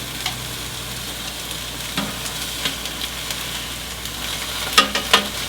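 Stuffed chicken roll ups fry in a pan with a low, steady sizzle. A spatula scrapes and nudges them, making a few sharp clacks near the end.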